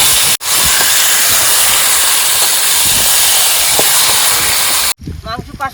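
Meat dropped into hot oil in a pan hisses in a loud, dense, steady sizzle for several seconds, close by, then cuts off abruptly as voices talk.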